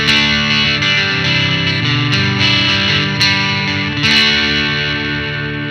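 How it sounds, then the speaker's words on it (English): An electric guitar runs through the distortion of an Aclam Go Rocky Go pedal, playing sustained, gritty, saturated chords with a few sharp strummed attacks, loud and steady with nobody talking. "let's try the distortion here"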